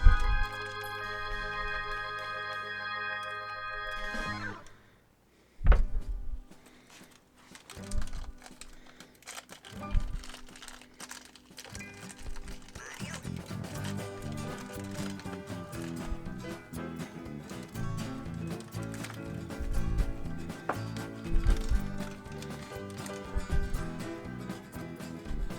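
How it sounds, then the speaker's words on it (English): A small Lionel O scale Toy Story Woody figure is pulled from taped packaging, with crinkling plastic, tearing tape and scattered sharp clicks and taps, close by, in irregular bursts with brief pauses. "We'll just pull the Woody out of the package here."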